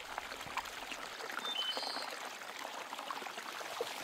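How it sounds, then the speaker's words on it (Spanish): Water from a stream spilling over a small falls, a steady broadband rushing splash that runs evenly throughout without voices. "Eso parece ser el sonido de una caída de agua."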